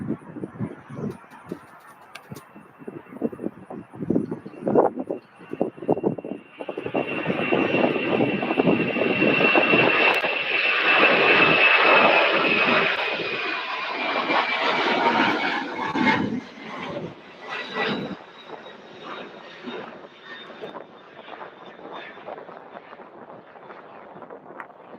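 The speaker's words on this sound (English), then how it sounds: "Now this is UPS flight 5900 going out to Los Angeles, LAX. This is also a no wingleted 767-300." UPS Boeing 767-300 without winglets departing Louisville for Los Angeles, its jet roar swelling from a low rumble into a loud, broad sustained takeoff thrust, then fading into a distant rumble.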